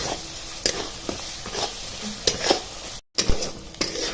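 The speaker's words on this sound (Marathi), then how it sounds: "आपण याच्यामध्ये सुके मसाले टाकून घेणार अजून एक दोन मिनिटं तरी परतवायला लागेल" Masala paste is stir-fried in oil in a pan, with a steady sizzle broken by repeated scraping stir strokes at an uneven rhythm, close up, and one brief cut to silence.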